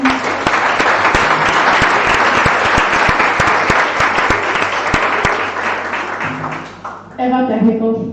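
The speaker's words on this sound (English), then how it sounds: "Okay, clap for Anya then." Loud, sustained clapping from a congress audience for a member named Anya fills the room, a dense steady applause that dips briefly near the end before picking back up as a voice begins to speak.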